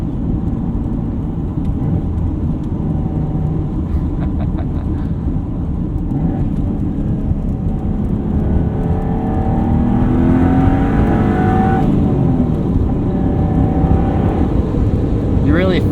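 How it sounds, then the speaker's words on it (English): A 1992 Dodge Stealth RT twin turbo accelerating through its gears, with steady engine drone, rising revs and turbo whine. The sound swells louder near the end, and a voice talks over it throughout. "It's one thing too I always notice about old turbo cars is how much turbo noise they have."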